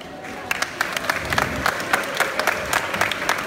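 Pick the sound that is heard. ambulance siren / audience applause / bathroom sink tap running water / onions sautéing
audience applause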